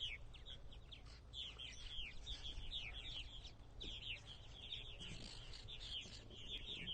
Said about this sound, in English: A lot of squawking and everything, but they'll settle down for the night very soon.